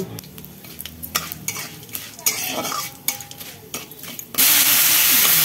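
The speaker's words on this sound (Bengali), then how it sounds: "এরপরে দিয়ে দেবো বিউলির ডাল, একটুখানি মেথি, একটু ছোলার ডাল, শুকনো লঙ্কা আর কারি পাতা।" Mustard seeds, urad dal, fenugreek, chana dal, dry red chillies and curry leaves sizzle and spit in hot oil for a South Indian tempering, with steady frying hiss, bursts of crackle and repeated scrapes of a spoon stirring in the pan.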